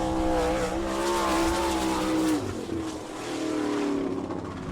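A sprint car at speed on the Attica dirt oval during an All Star Circuit of Champions event, its engine wailing loud and close, pitch swooping up and down through the lap as it passes, with no voices over it.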